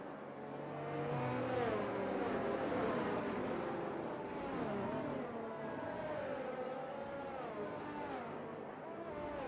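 A Formula 1 car's high-pitched engine whines and shifts through rising and falling revs on the Qatar circuit in a racing video game. It sounds steady and fairly loud, with no talk over it.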